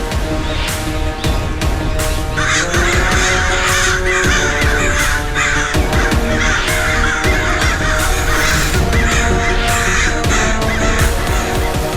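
Wild crows caw loudly and over and over through the whole stretch, harsh overlapping calls from several birds crowding a dense, continuous background.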